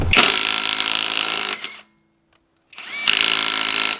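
A cheap Temu power tool, probably an impact wrench, works on a car lug nut torqued to about 120 foot-pounds. A loud, close whirring hammer burst stops, a short silence follows, then a second burst starts.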